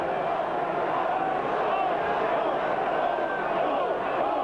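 Steady roar of a stadium crowd at a 1991 All Blacks versus Australia rugby test match, a broad continuous swell of voices holding loud throughout with no break.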